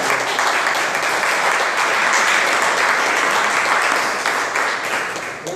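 A church congregation applauds during a worship service, a loud, sustained wash of many hands clapping that fills the room and tapers slightly at the end, with little talk.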